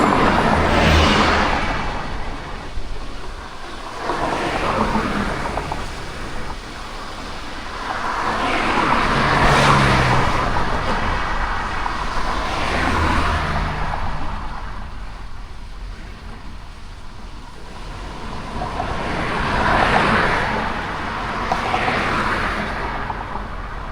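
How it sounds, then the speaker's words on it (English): Continuous road traffic along a California coastal highway, with cars swelling and fading past in repeated broad whooshes over a steady rumble, close and fairly loud, with no talk. "since there's crazy traffic here"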